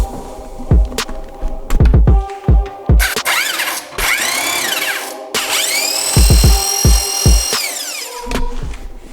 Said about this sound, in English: So now I'm gonna go and drill it.